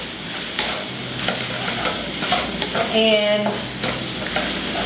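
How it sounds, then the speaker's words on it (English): Bean sprouts stir-fried in a hot pan for pad Thai, a loud, steady sizzle with repeated scraping tosses, and someone briefly says a word over it. "we're going to stir fry those bean sprouts in there"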